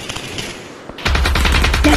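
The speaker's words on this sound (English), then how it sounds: "I'm getting shot at." Automatic rifle fire in the VR shooter Aim XR erupts loud and close halfway through, a dense rapid burst of gunshots following a quieter stretch of faint distant shots.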